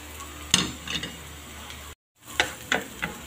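Ginger and onion being sautéed in a pan for laing, the Filipino taro-leaf dish: a low sizzle under a few sharp stirring clacks of the utensil against the pan, with a brief dropout to silence midway.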